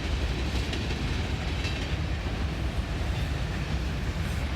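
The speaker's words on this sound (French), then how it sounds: "Et voici les wagons de BNSF." BNSF freight train wagons rolling past close by, a steady broadband rumble and rush of wheels on rails with no distinct breaks.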